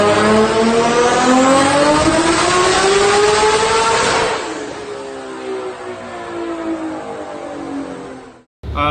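A 1650-horsepower sequential-turbo Toyota Supra engine on 60 psi boost roars loudly at high revs on a dyno, pitch climbing steadily, then easing into a rougher, lower drone before cutting off abruptly.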